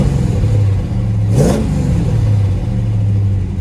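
A 1971 Chevrolet Chevelle engine, showing 76,977 miles, catches and runs at a steady loud idle with one brief rev-up swell partway through, then settles back to an even rumble.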